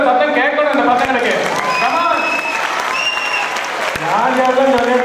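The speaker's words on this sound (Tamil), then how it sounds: "கைத்தட்டல் சத்தம் கேட்கணும் இந்த பசங்களுக்கு." Audience at a Tamil school annual day event applauding children, a sustained wash of clapping with cheering and voices mixed in, loud and continuous throughout.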